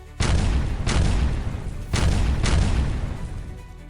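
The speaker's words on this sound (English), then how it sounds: "A cannon roared, destroying the final Wokou gunnery unit." Cannon fire in a battle scene: four heavy booming shots in two quick pairs, each a loud blast trailing into a rumbling decay, with no voices.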